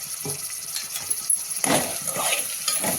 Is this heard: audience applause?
no